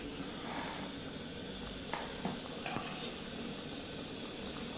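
Milk is stirred in a pan while milk kova cooks, with occasional light scrapes and clinks of a spoon over a faint steady bubbling hiss.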